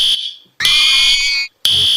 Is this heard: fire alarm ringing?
yes